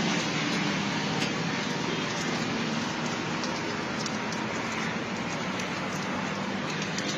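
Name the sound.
rain falling on a bus shelter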